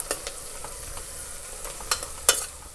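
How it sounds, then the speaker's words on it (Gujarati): Spices for paneer curry frying in a pan while being stirred, a low sizzle broken by sharp scraping clicks of a spoon, several louder strokes near the end, no talk. "બધા મસાલાને મિક્સ કરી લઈશું."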